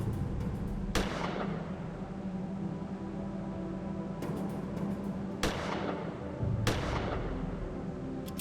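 Gunfire in the video game Gemini Rue: four sharp, loud shots at uneven intervals ring out over a steady background hum, each with a short decaying tail.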